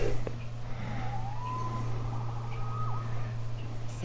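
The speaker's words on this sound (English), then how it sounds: "Saved by the siren." A police-style siren wails in a Spider-Man video game, a distant rising and falling tone over a steady background hum and game ambience.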